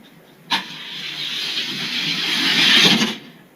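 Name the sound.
Datsun and Honda cars drag racing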